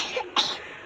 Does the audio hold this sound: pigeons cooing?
no